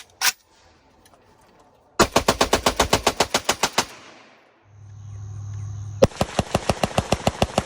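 A Kalashnikov USA KR103 AK rifle fitted with an ALG trigger, fired outdoors: one early shot, then two quick strings of sharp, loud, evenly spaced rounds, with a low hum in the pause between them.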